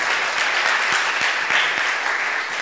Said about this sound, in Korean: 우리 한번 박수로 올려드립시다